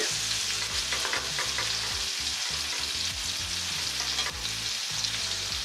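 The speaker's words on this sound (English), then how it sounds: "I just want to soften these onions in the ghee and the tomatoes and turn the heat down" Onions and tomatoes frying in ghee in a pan give a constant close sizzle, with soft rhythmic stirring underneath and no voices.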